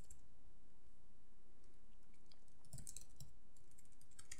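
Typing code on a computer keyboard, a short cluster of faint clicking keystrokes over low background hiss, brief and quiet with no voices.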